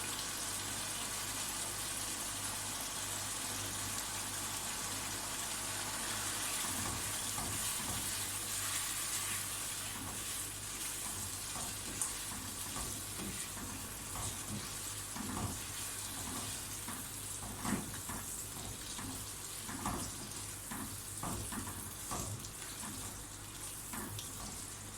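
Chopped tomatoes frying in a pan for chicken rara, giving off a steady loud sizzle and hiss with scattered crackles and stirring clatter over a long stretch, with no one talking.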